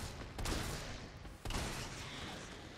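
Two heavy gunshots in Resident Evil 3, each a loud booming blast with a long rumbling tail, the second about a second after the first.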